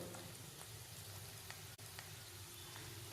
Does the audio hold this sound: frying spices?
yes